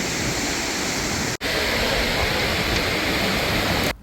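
Sea waves on the shore at Pattaya in the early morning, a loud continuous rush of surf that cuts out briefly once and stops just before the end.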